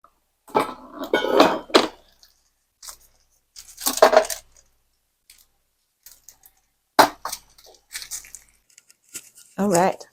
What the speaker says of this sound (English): Okay, I'm gonna wash this lid over here.